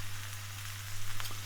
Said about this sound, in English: What I'll do is I'll fry all this up.